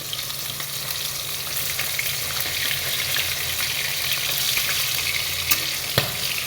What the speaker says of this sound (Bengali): আর এই যে পমফ্রেট মাছ ভাজা বসিয়েছি